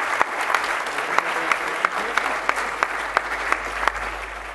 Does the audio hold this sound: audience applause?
yes